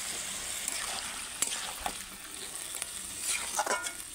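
Fish head and leafy greens frying in a pan as water goes in, a soft sizzle and stirring with a few splashy bursts and scraping clicks, close and fairly quiet.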